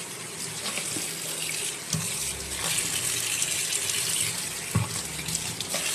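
Kitchen tap running steadily as cucumbers are rinsed under it, a continuous close splashing gush with a few brief knocks and clatters as the vegetables are handled.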